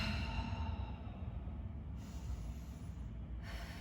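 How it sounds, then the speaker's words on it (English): Deep, slow breaths during a yoga stretch, two long airy breath phases heard close up, steady and unhurried with no speech. "Let's take 2 more breaths here."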